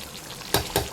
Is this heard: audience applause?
no